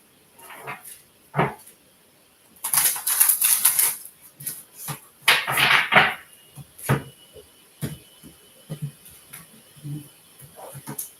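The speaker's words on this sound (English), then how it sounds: "One more shuffle." Tarot cards being shuffled by hand, coming as irregular bursts of riffling and soft tapping with quiet gaps between them, close up and moderately loud with no talking.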